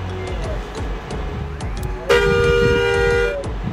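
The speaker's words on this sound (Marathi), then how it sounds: "गेममध्ये 3 प्रकारचे हॉर्न आहेत." A bus horn from the Indonesia Bus Simulator mobile driving game, with a double-decker bus in play, sounds once as a loud, sustained blast of over a second. It cuts in midway over quieter in-game engine and road noise.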